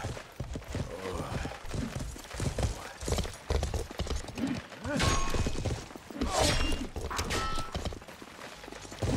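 Horses' hooves clip-clop in the medieval video game Life is Feudal, a close, uneven series of thuds with mechanical clatter and faint voices in the background.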